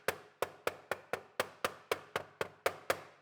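A hammer taps spools flush against a tabletop in about a dozen crisp, evenly spaced knocks, close and moderately quiet, with no voices.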